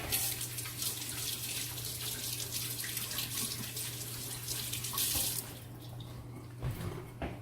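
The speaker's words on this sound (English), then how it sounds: "Wash your hands real quick." Hands are washed under a running kitchen faucet, a steady close rush of water with faint splashing that changes near the end as the flow is shut off.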